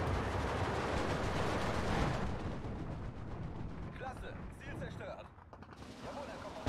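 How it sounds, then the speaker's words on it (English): Heavy 120 mm mortar fire in the World War II strategy game Steel Division 2, a dense continuous rumble of booming blasts that thins out partway through, with lighter battlefield clatter and crackle layered on top. "That's a lot of 120 mil mortars there."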